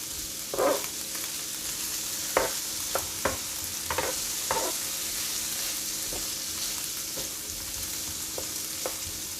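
Shrimp fried rice sizzles steadily in oil with soy sauce and garlic butter, Benihana style, while sharp spatula taps and scrapes break through the hiss at irregular intervals; no one talks.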